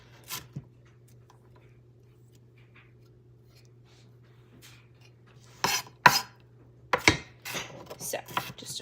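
Rough chopping of vegetables on a cutting board for sloppy joe loaded baked potatoes: after a near-silent stretch with a steady low hum, a handful of sharp, close knife strikes land in an uneven cluster toward the end.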